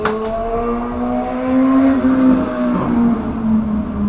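A loud motorcycle engine drones nearby with a steady harmonic roar that swells and shifts pitch around the middle as it passes, then gradually eases off, alone without talking.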